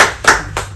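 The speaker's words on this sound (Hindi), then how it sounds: "ए चलो ताली बजाओ" A group of people claps hands on command in a room, two quick sharp bursts of applause, close and loud, with no speech.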